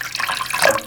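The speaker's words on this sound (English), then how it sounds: "And I'm adding more water." Tap water pours steadily into a cooking pot while chicken soup is being made, a close, continuous splashing stream heard on its own for under a second.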